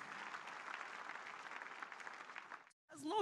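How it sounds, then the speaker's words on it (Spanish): A church congregation applauds during a healing service, a sustained wash of clapping that cuts off near the end before a voice resumes. "¿Podemos aplaudir a nuestro Señor Jesucristo?"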